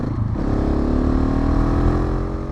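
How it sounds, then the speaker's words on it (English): A motorcycle engine fitted with an aftermarket exhaust idles and runs steadily up close, giving a continuous deep, throaty rumble with a layered harmonic drone that holds throughout. "I do have a really nice exhaust on here, but I think it sounds pretty cool."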